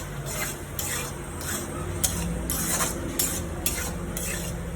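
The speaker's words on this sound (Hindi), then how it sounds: "सो ये रहे मेरे पाइनएप्पल्स जो मैं डाल रही हूँ।" Pineapple pieces added to a hot pan and stirred for a risotto, a steady sizzle of frying with regular scraping strokes of a spoon against the pan, close and continuous with no talking.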